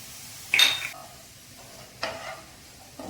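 Ginger garlic paste stirred in a pan on low gas for a Kerala white chickpea curry, two brief scraping, sizzling strokes of a spoon separated by quiet stretches, close and fairly soft, without speech.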